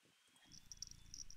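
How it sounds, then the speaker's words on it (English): A cat in the game Bete Grise purrs softly while being petted, a quiet low rumbling flutter that starts partway through, with faint high chiming tones over it. "I can pet the kitty."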